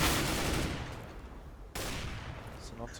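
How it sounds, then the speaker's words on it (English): Gunfire during a competitive CS:GO match, with an AWP sniper rifle firing, gives a burst of loud shots that decays, then a second sharp report partway through, heard under crowd-like game noise. "Sinner's looking to take this kill with the AWP, missing the shots at the moment"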